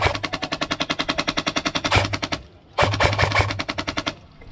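Airsoft guns fire rapid full-auto bursts during an outdoor airsoft game, a long steady string of sharp cracks, a short pause, then another fast burst, loud and close with no talking.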